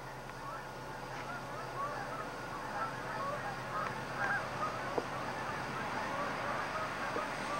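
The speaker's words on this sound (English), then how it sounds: "geese up there somewhere. Yeah," Geese honk overhead at a lake in late autumn, a scattered series of calls that stay fairly faint and distant over a steady outdoor background.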